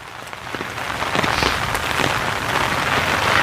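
Steady rain pouring during a storm, a dense hiss of drops on surfaces that swells slightly louder toward the end, with no voices.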